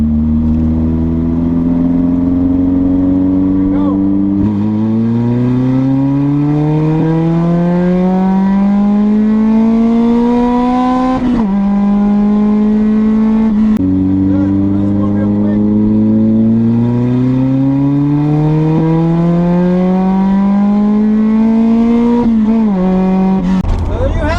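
A 1991 Honda CRX engine on a street-tuning run, revving hard through a third gear pull, loud and close with rising pitch sweeps broken by quick shift dips, sustained throughout.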